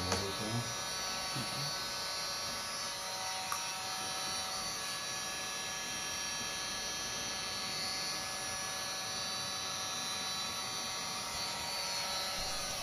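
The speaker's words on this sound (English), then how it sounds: "Here you can see I'm using the heat gun to keep that area heat" A heat gun blows hot air onto PVC pipe for a bike trailer build, a steady whirring hum with a constant airflow hiss running unbroken and fairly loud throughout.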